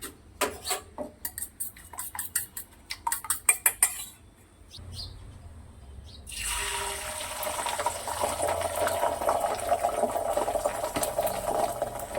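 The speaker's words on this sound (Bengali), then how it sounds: "দেখো বন্ধুরা এখানে ডিমের ঝোলটা বসিয়ে দিয়েছি" A pot of egg curry set on to cook, with sharp clinks of a utensil against cookware for the first few seconds, then a steady, fairly loud sizzling and bubbling from the pot that fills the rest.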